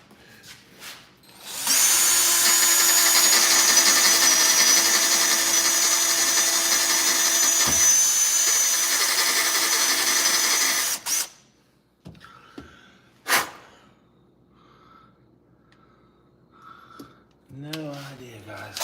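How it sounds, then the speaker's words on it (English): A power drill bores steadily through a soft engine part while building a distributor for a parts truck, a loud continuous whine lasting about nine seconds, then stopping, followed by a few brief knocks and a voice speaking. "Because I just drilled through it pretty easily there."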